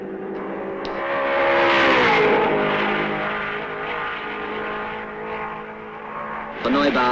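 1954 Mercedes race cars at the French Grand Prix, engines droning loudly with a rising and falling pitch as they pass, heard under commentary, with a sharper burst near the end.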